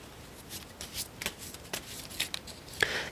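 Tarot cards are shuffled and drawn by hand in a quiet room, giving a string of soft, crisp riffling and flicking bursts at an uneven rhythm, close and fairly faint.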